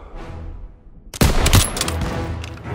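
Gunfire erupts in the World War II shooter game Call of Duty: WWII after a quieter lead-in, with loud, close, rapid bursts and overlapping shots that continue in a sustained volley to the end.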